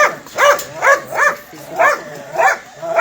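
Big dog at an animal shelter letting out a steady series of six close, whining barks, evenly spaced about half a second apart, loud and clear with little else around them.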